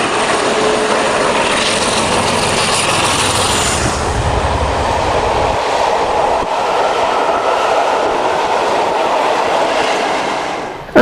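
British diesel locomotive hauling a train, a loud, close, steady roar of engine and rolling wagons that holds for most of the clip before easing slightly near the end.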